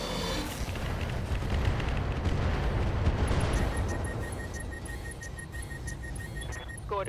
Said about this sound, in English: We're going to fire on this Mauler